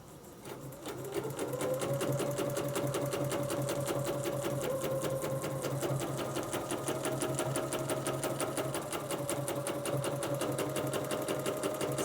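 Close, steady stitching from a sewing machine running continuously at an even rapid pace, a constant mechanical whir and needle tapping with no pauses.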